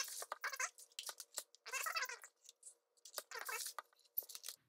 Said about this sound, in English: I'm going to trim off all of like these kind of sharp edges